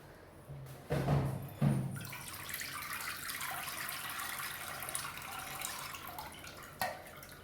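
Tamarind water for a fish curry is poured through a strainer, making a steady, close trickling and splashing flow with a couple of louder knocks near the start and another near the end.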